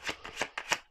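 Tarot cards being shuffled in a quick, near riffle-like burst of about four crisp papery flutters, with no talking.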